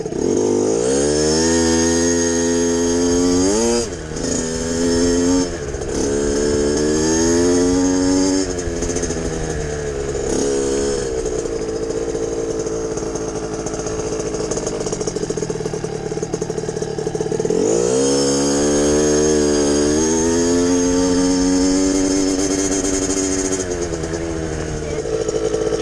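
A dirt bike engine revs hard and loud, climbing in pitch, then dropping sharply as gears shift, repeating in waves of acceleration close by.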